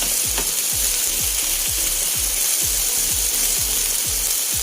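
Chicken pieces for teriyaki, coated in cornstarch, sizzling and frying in a pan, a constant bright crackle with a rhythmic series of low clicks or scrapes repeating about every half second throughout.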